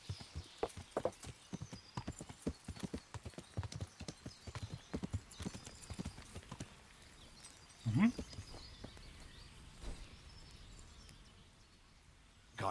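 Horse hooves clip-clop steadily in Kingdom Come: Deliverance, a quick rhythm of close hoofbeats with a brief whinny partway through before the hooves fade, leaving faint ambience.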